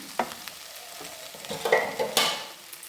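Garlic with turmeric and salt cooks in a pan for a dhaba-style garlic paratha, giving a light sizzle broken by several close scraping stirs, with no one talking.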